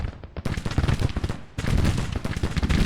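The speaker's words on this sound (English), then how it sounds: "to issue orders all the way from Longstreet, telling everybody just to fire at the max range" Dense rolling musket fire from Civil War troops shooting at maximum range in the Grand Tactician: Civil War video game, loud and continuous, with overlapping volleys and a brief dip before the barrage swells again.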